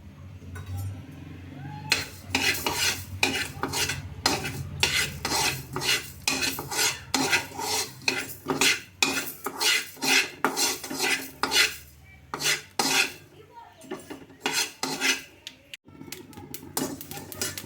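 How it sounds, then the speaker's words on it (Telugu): Fenugreek and mustard seeds fry over a medium flame for a bitter gourd pickle as a metal spoon stirs and scrapes the pan, giving loud rapid clinks in uneven bursts over a faint sizzle, close up and without talk. "మెంతులు ఆవాలు మాడకుండా మీడియం ఫ్లేమ్లో పెట్టుకుని వేపుకుందామండి"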